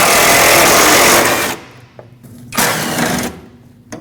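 A power tool with a 10mm socket spins out bolts during a radiator replacement on a Nissan Frontier 2.5L L4: a loud, close buzzing whir lasts about a second and a half, stops, then returns in a shorter second burst.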